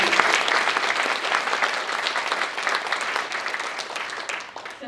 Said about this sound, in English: So, round of applause to everyone who's done that.